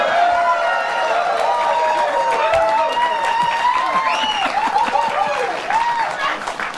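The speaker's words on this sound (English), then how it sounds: "I didn't expect applause there" Studio audience applause on a late-night talk show, steady dense clapping that fills the clip at a loud, even level, with someone talking over it throughout.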